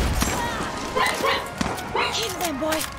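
A dog barks in Far Cry 6, with sharp yips and short whimpering calls mixed into game ambience and a voice talking over them at close range.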